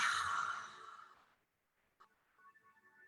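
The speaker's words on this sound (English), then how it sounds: "And exhale with that HA sound." A yoga breathing exercise: one long, breathy exhale with an open HA sound, strong at first and fading over about a second, followed by near silence and faint soft noises.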